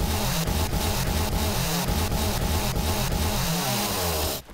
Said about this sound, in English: while we have the chainsaw out